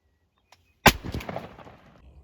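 A single gunshot fired at a wild turkey during a hunt, one sharp loud blast after a moment of near silence, followed by a rolling echo that decays over about a second.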